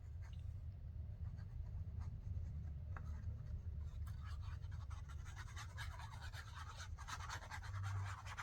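Scissors cut paper for a handmade envelope booklet mini journal, giving a steady close scratching and rasping texture that grows busier with crisp snips in the second half, over a low background hum, with no talking.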